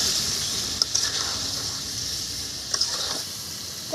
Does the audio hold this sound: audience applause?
no